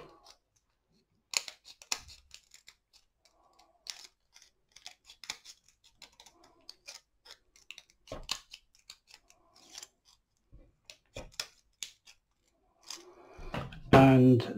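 Scissors snip scrap material for an assemblage sculpture in a quiet room, a series of short, sharp crisp cuts spaced irregularly, ending with a louder clattering handling noise.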